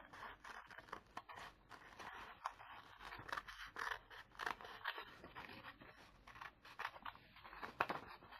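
Scissors cutting out a fabric applique piece, a close run of irregular snipping, scraping and crunching strokes at soft level, with no talking.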